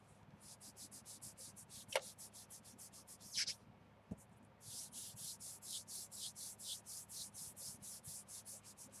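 Embossing powder rubbed onto a surface, a few scattered taps and scrapes first, then a close, steady rhythmic rubbing of quick repeated strokes.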